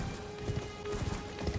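Quick hoofbeats of a horse in the video game Elden Ring patter in an uneven galloping rhythm over a steady low hum, the clip-clop fairly soft and close.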